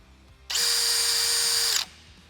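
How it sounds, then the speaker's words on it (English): A Milwaukee drill set to its shortest ramp-up whirs almost instantly to maximum RPM, holding a loud, steady high whine for over a second before spinning down, with no talk. "the machine's going to accelerate to its maximum RPMs as fast as it possibly can."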